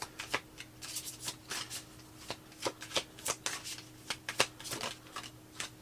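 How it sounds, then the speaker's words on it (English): Tarot cards shuffled by hand, a quiet, close run of crisp riffling flutters and soft slaps repeating in irregular bursts, with no talking. "I'm going to pull a couple cards."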